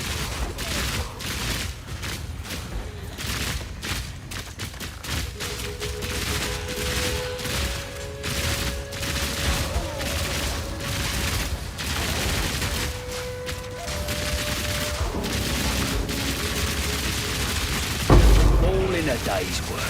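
Fully automatic crossbow firing in Path of Exile 2 played as a Witch Hunter, a fast continuous rattle of shots with layered game effects and a sharp boom near the end, while someone talks over it.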